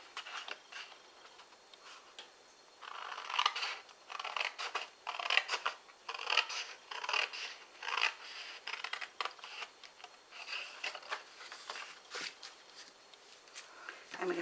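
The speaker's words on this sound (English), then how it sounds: "We're going to cut away this section here" Scissors snipping through a cardboard treat-holder box in a quiet indoor craft setting, a long series of close, irregular crisp cuts and rustles with brief pauses, no voices.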